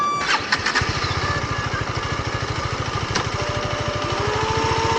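A motorcycle engine on a Kerala beach fires up and settles into a steady, fast-thumping idle, loud and close, with a brief rising whine near the end.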